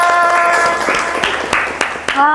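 A class of students claps in brief applause, sharp hand claps scattered over a steady spread of noise, with voices talking and calling out over the top throughout.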